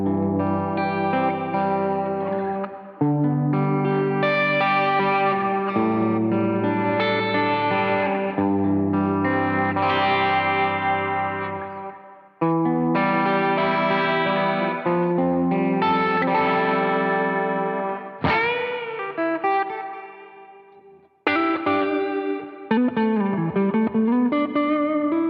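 Electric guitar played through an Xvive U2 digital wireless guitar system, sounding clean and clear with light effects, with ringing chords and melodic phrases separated by short gaps, close and alone without talk.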